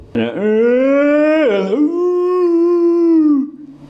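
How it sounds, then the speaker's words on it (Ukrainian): A dog lets out one long, loud howl at a siren close by, rising and wavering in pitch before tapering off. "А інша в мене собачка виє кожен раз на сирену"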